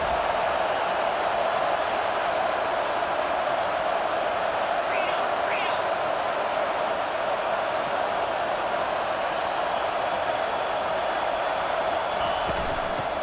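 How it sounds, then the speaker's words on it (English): A stadium crowd in EA Sports College Football 25 roars continuously as a dense, loud wall of noise during a red zone defensive stand, steady throughout with faint whoops rising out of it. "And here comes the noise. This crowd is trying to inspire this defense to make a big red zone stop."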